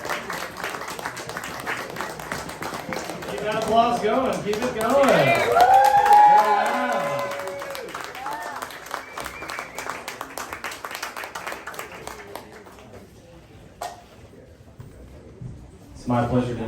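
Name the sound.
audience applause at poetry reading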